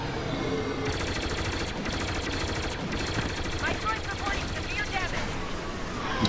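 Rapid A-Wing laser fire in Star Wars Battlefront 2, loud continuous bursts of blaster shots with explosions and engine roar, layered under excited talk from players.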